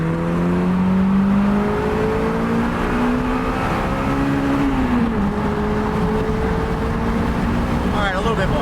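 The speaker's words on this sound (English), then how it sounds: "this is gonna be a roll onto the highway here, and all the windows are down" A stock-exhaust Toyota Celica GT-S accelerates onto a highway with the windows down, its engine note climbing steadily in pitch and staying loud and close, a shift-like dip about midway, then rising again.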